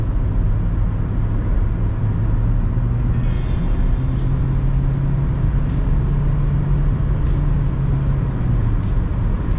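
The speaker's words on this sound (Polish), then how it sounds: "Jak widzicie jadę 128 km na godzinę. Mamy około 3000 obrotów jedzie się całkiem fajnie" Inside a 2014 Nissan Pulsar 1.2 automatic cruising at highway speed near 128 km/h and about 3000 rpm, a steady engine drone and road and wind roar fill the cabin continuously.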